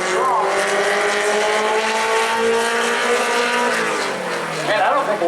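A Honda Civic race car laps an oval track at a weekly racing event, its engine roaring loud and sustained before the pitch sinks as it arcs into a turn, with a commentator talking over it.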